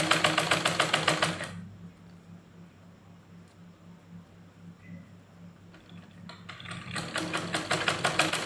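A sewing machine stitches a salwar, running in a fast, loud, even chatter. It stops for several seconds of near quiet, then starts stitching again at full speed.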